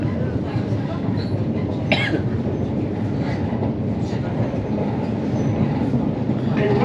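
A train rolls along a rail line near the old Croxley junction with a loud, steady rumble, some clattering from the carriages and a cough partway through.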